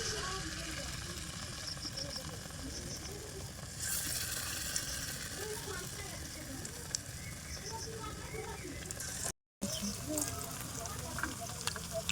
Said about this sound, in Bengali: এবারে যেটুকু বাকি আছে সেটুকু আবারও ভেজে নেবো